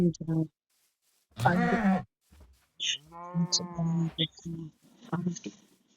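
A cow moos in a long, drawn-out low call, with a shorter call before it, amid pauses and bits of speech nearby.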